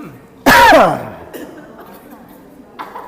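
One sharp, loud cough bursts out close up, followed by quiet murmuring and a faint breath.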